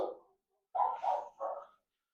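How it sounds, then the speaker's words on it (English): Dogs bark in the background in a quiet indoor room, a few faint, muffled barks in a short cluster, one after another, with silence around them. "apologies for my dogs barking in the background"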